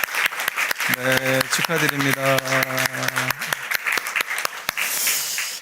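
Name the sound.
congregation applause in church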